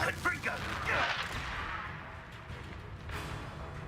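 Rapid booming bursts of a Confringo fire spell in the Hogwarts Legacy video game, a cluster of blasts and crashes up front that then fades, with a voice speaking over the combat.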